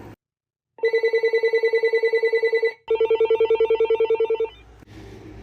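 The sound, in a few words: Uniden TRU348 cordless phone ringtone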